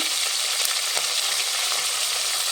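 Spices, green chillies, mint and curry leaves sizzle steadily in hot oil, a bright, constant frying hiss with small crackles and pops, close and alone with no talking.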